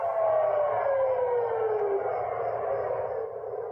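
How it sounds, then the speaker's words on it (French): Air raid siren wailing at night in central Tel Aviv, a loud sustained howl with a slowly falling pitch that carries steadily throughout with no voices over it. "la sirène retentit."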